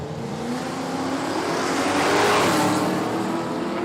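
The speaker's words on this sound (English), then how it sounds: "So the VH Commodore wagon, 308 engine in there for Daniel Dodds. Going to take on Luke Spittle here, the VL Commodore." A VH Commodore wagon with a 308 V8 drag races a VL Commodore on a dragstrip, engines roaring as the cars launch and pass close by, the sound swelling and then fading slightly.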